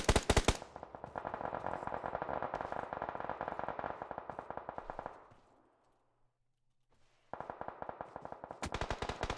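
Rapid automatic gunfire rattles in PUBG Mobile during a competitive qualifier match, loud sustained bursts that break off into a brief near-silence before the shooting resumes.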